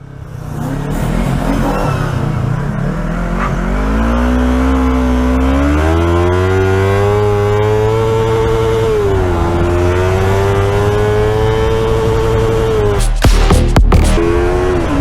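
Motorcycle engine with a newly fitted exhaust revs steadily and loudly up close, its pitch climbing and holding in a sustained drone before a few sharp blips near the end.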